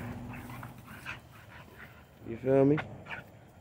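American Bully dogs at a breeding setup give a whimpering yelp and short bark near the end, faint panting and shuffling under someone talking casually throughout.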